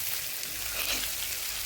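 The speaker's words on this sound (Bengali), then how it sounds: "এখন তেলের উপর ভাজতেছি" Boiled onions and dried chilies frying in oil, a faint, even sizzling hiss that runs steadily throughout, with no talking.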